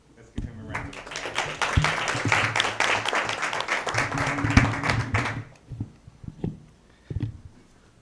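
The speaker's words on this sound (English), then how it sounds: "Let's give him a round of applause." An audience at a school district board meeting bursts into applause, a dense wash of clapping lasting about five seconds before fading out to a few murmurs and scattered sounds.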